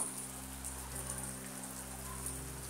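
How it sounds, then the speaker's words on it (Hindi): Heavy monsoon-style rain pours steadily onto surfaces in a dense, even hiss with a soft constant patter, close and continuous for the whole stretch, with no voices over it. "ये देख लीजिए कितना जोर से आ रहा है बारिश"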